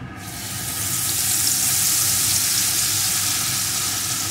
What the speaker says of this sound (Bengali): মশলাটা একটু ভেজে নিয়ে এর ভিতরে আমি পেস্ট করা মশলাটাকে দিয়ে দেবো